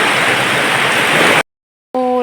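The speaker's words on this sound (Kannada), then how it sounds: "ಬಾ ಜೋರು ಮಳೆ" A sudden heavy downpour makes a loud, steady hiss that fills the first moments, then cuts off abruptly into silence before a brief voice is heard.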